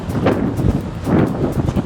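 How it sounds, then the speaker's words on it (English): Strong wind buffets the microphone on a Miami Beach street as rain begins, a loud, rumbling roar with gusty swells throughout. "And it's super windy."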